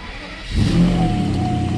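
A cold Mercedes SL600 V12 engine turns over and settles into a steady low idle, loud and close, after a brief quiet moment, with a leaking exhaust.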